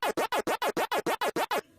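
Pac-Man's waka waka chomping sound from the arcade video game: ten rapid, evenly spaced electronic chirps in a steady rhythm, close and alone.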